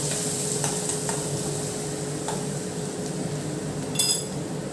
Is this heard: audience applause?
no